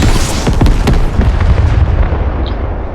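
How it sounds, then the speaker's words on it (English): A video game airstrike lands in a Captain Fishstick deathrun level, a loud, close rumbling blast that booms and rolls on for the full few seconds. "as the airstrike comes down, it will eventually hit a button over there"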